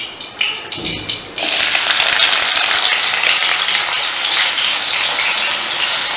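Chilies drop into a hot oiled pan for paneer bhurji, a few clinks and spatters first, then a sudden loud burst of frying that settles into a dense, continuous sizzle.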